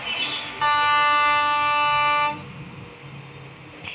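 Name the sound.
train horn of Mumbai EMU in a train video game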